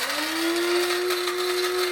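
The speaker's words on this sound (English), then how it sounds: "We put that into the coffee grinder" A coffee grinder grinds dried banana peels for homemade fertilizer, giving a loud, steady motor whine that rises briefly as it spins up and then holds constant, close by and alone.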